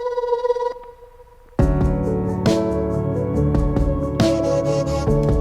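Synth tones in a slow, modern vintage lo-fi alt pop song with a Portal-like video game feel: a sustained bell-like tone fades to near silence, then a full, loud mix of layered synths and beats enters and plays on.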